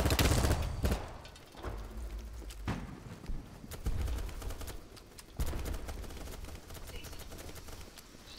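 Bursts of gunfire from the video game BattleBit crack out in short clusters with several sharp reports, loud against quieter stretches of background game noise, with no voices.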